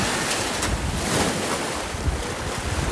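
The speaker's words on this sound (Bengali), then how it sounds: "এখানে এই যে ঢেউ দেখতে পাচ্ছ" Loud, close roar of sea surf washing in at New Digha beach with heavy wind buffeting the microphone, continuous throughout.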